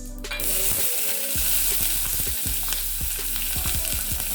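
Onions sizzle loudly and steadily in hot oil while cooking for an omena recipe, with scattered scraping and stirring clicks over the continuous frying hiss.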